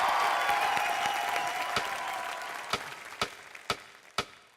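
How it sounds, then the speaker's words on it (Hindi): A Hindi TV entertainment show's studio audience applauds, a steady roar of clapping that gradually thins, leaving a few loud individual claps toward the end. "चलिए एक बार जोरदार तालियां हो जाएं इनके लिए।"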